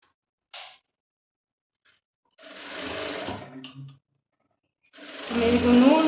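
Sewing machine top stitching a dress, running in short close bursts separated by silent pauses, the last run the loudest and steadiest.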